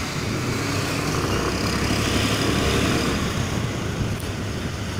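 A Suzuki Burgman Street scooter runs steadily under speed-test riding, its engine and wind roar forming a constant loud drone with no pauses and no talk.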